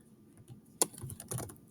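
A handful of keystrokes tapped on a computer keyboard, soft and close with one sharper click near the start and a short quick burst afterward, with no talking.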